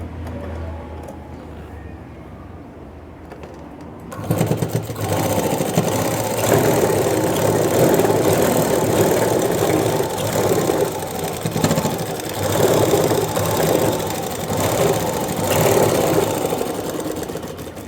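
Sewing machine stitching the side joint of a blouse, running steadily and fairly loudly after a quiet start, with a continuous mechanical whir and no talking.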